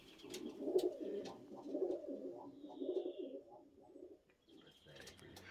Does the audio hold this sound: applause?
no